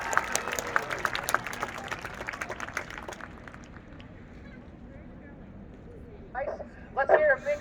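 A crowd at a university marching band event claps for graduating seniors, a lively burst of applause that fades away after a few seconds, followed by a quiet pause and then a brief spoken voice.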